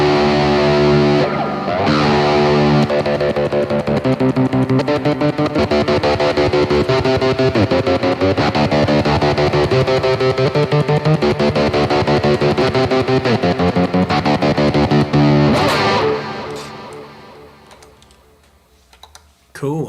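An electric guitar plays through an amplifier with a distorted, driving tone, strumming steadily for a long stretch before fading out near the end.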